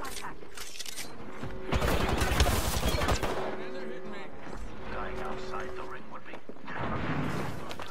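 Rapid bursts of automatic gunfire in Apex Legends, dense rattling volleys mixed with game effects, as players talk over the action.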